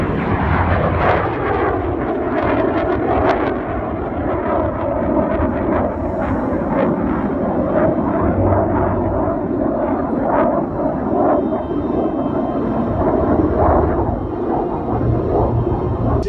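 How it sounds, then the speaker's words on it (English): A T-38 jet flies a slow, gear-down dirty pass at the San Bernardino air show, its steady loud engine roar holding throughout with no talk over it. "And for this aircraft down at the slow operating speed range of the T-38."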